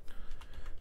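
Keys clatter in a quick, steady run of close, soft taps on a computer keyboard as a cryptocurrency wallet address is typed in for a home-built SCPrime mining setup.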